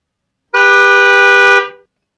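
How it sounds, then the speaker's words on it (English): A single electronic horn tone, played by a sensor kit when its HC-SR04 ultrasonic sensor detects an obstacle, sounds loud and clean for about a second, then fades out quickly. "If the distance goes low, if the distance goes lower than 10, like it will beep, play the horn."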